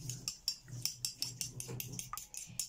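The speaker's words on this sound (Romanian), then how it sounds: "Acum vom bate ouăle." Eggs for pasta carbonara get beaten in a bowl with a utensil, a quick run of close, clinking taps repeating at a steady whisk rhythm.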